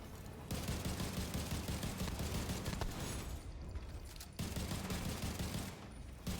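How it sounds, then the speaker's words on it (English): Cluster bomb grenades burst one after another in a video game, a dense, continuous rattle of blasts that stays loud throughout with a brief dip near the middle. "I'm just throwing constant fucking cluster bombs"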